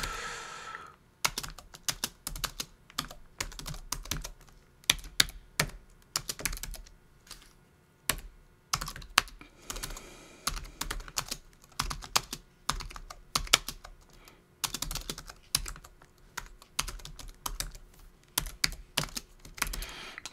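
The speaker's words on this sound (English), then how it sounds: "If I can type." Rapid typing on a computer keyboard fills the recording, close and crisp, with bursts of quick keystrokes broken by short pauses and no talking.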